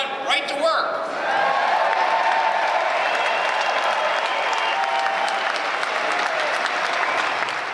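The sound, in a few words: convention audience applause and cheering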